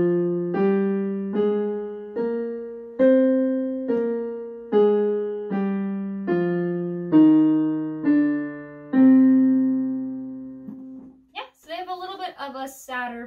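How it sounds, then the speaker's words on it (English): A minor scale is played note by note, rising then falling in even steps, clear and close, before a voice briefly speaks at the end. "Minor scales are the ones that sound sad."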